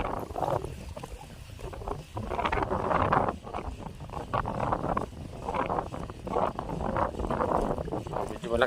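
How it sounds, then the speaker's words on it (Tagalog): Strong wind buffets the microphone out at sea from a boat while fishing, a steady rushing roar with gusty surges throughout and no talk. "Malakas yung hangin."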